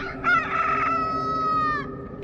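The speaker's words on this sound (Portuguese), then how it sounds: "o galo cantou." A rooster crows once, a loud, close, drawn-out cock-a-doodle-doo with a rising start and a long sustained call that fades near the end, heard alone with no talk.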